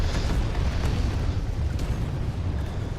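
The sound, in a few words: artillery explosions in the video game Planetside 2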